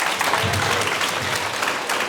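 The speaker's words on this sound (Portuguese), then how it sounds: "palmas para Jesus" A church congregation applauds, dense and loud clapping that keeps up steadily from start to finish with a faint crowd murmur underneath.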